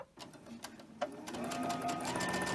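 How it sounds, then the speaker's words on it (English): A domestic sewing machine stitches quilting fabric strips together, starting with a few short taps and then settling into a steady, close, whirring run of rapid needle strokes without talk. "I'll go ahead and I'll sew the strips together."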